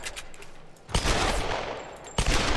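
Gunshots in Tomb Raider (2013), a game fight against zombie-like enemies: sharp bursts of fire come in at least two loud clusters, with a cracking report that trails into noisy decay.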